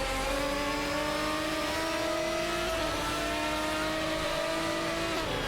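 Race car engines in a video game, among them a Porsche 996 Biturbo, a continuous loud high-revving drone with pitch climbing through the gears and brief dips at shifts, sustained without pause.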